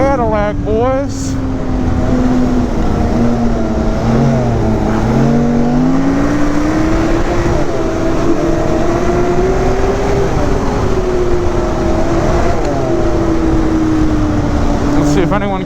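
A Ski-Doo 900 ACE Turbo snowmobile drones loudly and continuously while riding, its engine pitch rising and falling with throttle, close up with a rider talking over it.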